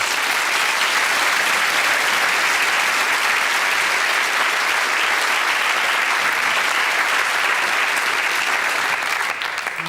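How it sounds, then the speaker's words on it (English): A studio audience at a paranormal entertainment show applauds loudly and steadily, a thick wash of clapping that holds for the full stretch before easing slightly at the end. "Let's give him a nice big round of applause."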